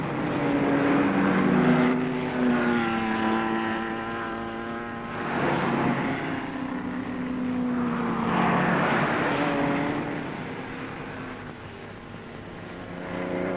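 Triumph TR2 race cars at the 1955 Le Mans 24 Hours, engine notes rising and falling as cars pass by, moderately distant with clear harmonic whine sweeping in pitch.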